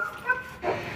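A dog gives a couple of short, yippy barks and whimpers at close range, fairly soft, with a faint hum behind.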